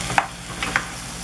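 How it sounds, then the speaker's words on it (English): A marinade being stirred into a quinoa dish in a pan, with a low steady sizzle under a few soft utensil scrapes and clinks, no voices. "And then I just stir it around and make sure everything gets stirred in real good."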